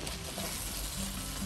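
Pumpkin pieces sauté in a hot pan with a dense, steady sizzle and crackle close up, unbroken throughout the short stretch with no voices.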